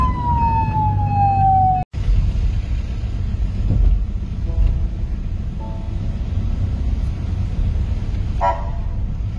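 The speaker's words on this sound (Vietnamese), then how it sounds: "chuyến xe cứu thương của Caritas Thanh Hóa luôn được tiếp tục lăn bánh ở trên đường" A Caritas Thanh Hóa ambulance out on the road sounds a falling siren wail for the first couple of seconds. A steady rumble of engine and traffic noise follows, with no voices.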